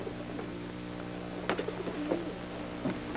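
Pigeons kept in a small rented coop give a few soft, low coos and brief rustles, fairly quiet over a steady background hum, with no talk.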